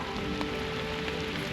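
Steady rain patters on the surface during a walleye fishing outing on the Ottawa River, a dense, even hiss filling the short stretch without any voices.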